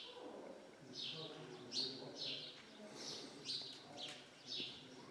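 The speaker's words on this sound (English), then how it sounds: "the beautiful bird." Bird calls on Qeshm Island, Iran: a series of repeated chirping calls roughly every second, moderately loud over faint background noise, with no talking.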